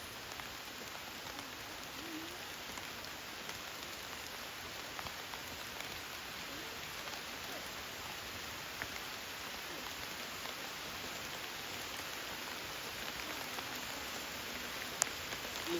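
Steady, dense rainfall hisses continuously, a heavy downpour with no letup and a faint sharp tap near the end.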